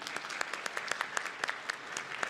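Audience applause fills the room, a steady patter of many hands with sharper individual claps punctuating it, moderately loud and close, with no voices on top.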